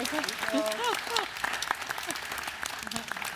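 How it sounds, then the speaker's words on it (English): Sustained applause from a seated crowd at an art and architecture panel event, steady and fairly close, with a voice speaking over it. "A big round of applause for our..."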